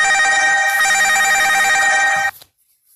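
An incoming call sets a phone ringing with a steady electronic ringtone, loud and close, sounding continuously for over two seconds before cutting off abruptly into near silence.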